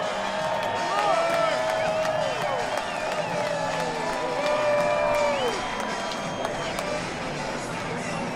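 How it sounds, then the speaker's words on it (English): A large crowd roars and cheers at Daytona International Speedway as cars pass, a broad sustained wall of noise with whoops and a few whistles, heard together with talk. "a big roar from the crowd as they come past"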